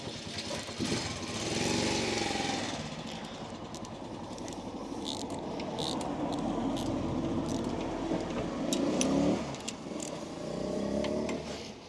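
A Bolat FM 25 motor runs with a rough, uneven engine drone that swells and fades, along with some rattling clicks, close by and without speech.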